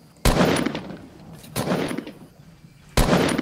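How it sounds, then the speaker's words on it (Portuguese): Gunshots in the video game Fortnite: three sharp loud reports spaced about a second and a half apart, each with a broad burst and a noisy decaying tail. "Dá um tiro aí."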